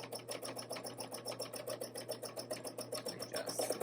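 A domestic sewing machine stitches at a steady pace, giving quiet, evenly spaced mechanical clacks in a fast regular rhythm with a faint motor hum underneath.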